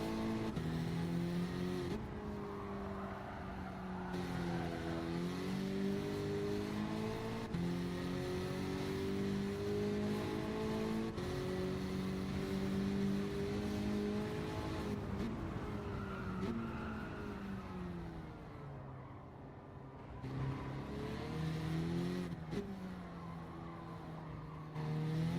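Race car engine in the Gran Turismo 7 video game, running at the Alsace track, droning steadily with repeated pitch rises and drops through gear changes, moderately quiet and without talk.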